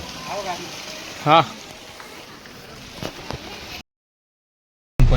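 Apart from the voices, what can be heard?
heavy rain falling at Mount Abu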